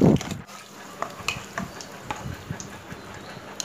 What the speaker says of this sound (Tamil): கேஷ்யூ ஃப்ரை ஆகிடுச்சு